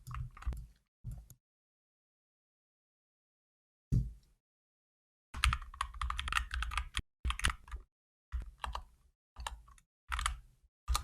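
Bursts of typing on a computer keyboard while laying out shapes in a design app, quick clustered keystrokes separated by pauses and a long silent gap, close and fairly quiet with no talking.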